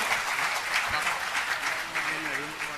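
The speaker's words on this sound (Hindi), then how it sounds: "तो तालियां जरा जोरदार बज जाए, आगे से पीछे तक।" A large gathering at a Jain religious discourse breaks into strong, sustained applause, a thick wash of many hands clapping together from start to finish with a few voices faintly underneath.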